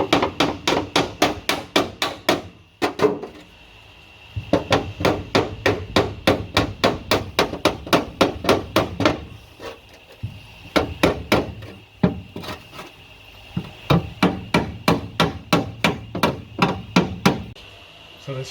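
Ball peen hammer beating a Mk2 Escort floor panel's sheet metal over a dolly, a fast run of sharp metallic strikes in bursts with short pauses between, close and loud.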